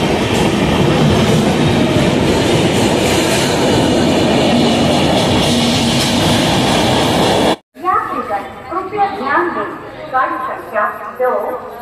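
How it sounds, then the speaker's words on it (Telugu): A train pulls away from an Indian railway station platform with a loud, close, steady rumble of wheels and cars. The sound cuts off, and people talk nearby afterwards. "ట్రైన్ అయితే వెళ్ళిపోతుంది."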